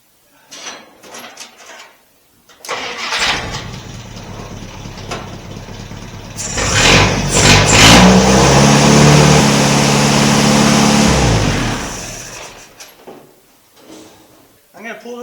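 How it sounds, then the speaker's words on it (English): A 1958 Willys DJ-3A engine with a dirty carburetor cranks and catches, revs up loudly for several seconds, then cuts off, with someone talking before and after. "Let's fire this thing up, make sure we're still good to go."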